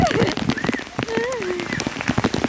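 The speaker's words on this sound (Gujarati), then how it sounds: "જુઓ કેટલો વરસાદ આવી રહ્યો છે." Heavy rain patters steadily on a terrace while people talk over it.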